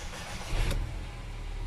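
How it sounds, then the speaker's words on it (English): A 2013 Mercedes-Benz A250 engine cranks and catches with a brief burst of low rumble, then settles into a steady idle close by. "So let's start the car."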